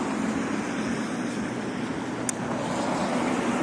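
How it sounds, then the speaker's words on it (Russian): Evening traffic jam on a snowy city street, with a steady broad rumble of idling and slowly moving cars, fairly close and continuous. "Пробка, вечер."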